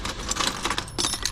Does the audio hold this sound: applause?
no